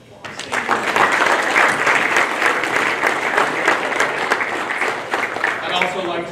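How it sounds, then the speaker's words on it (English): A hall of fame ceremony audience claps for the committee members, a full, sustained round of applause rising quickly and continuing steadily, with some voices mixed in near the end. "please give them another round of applause"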